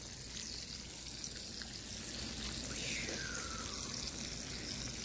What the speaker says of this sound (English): You can even hear them sizzle.